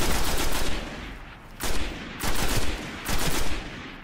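Gunfire in the shooter game Destiny on hard difficulty: three or four loud, close bursts of shots, each followed by a short lull, with no talk.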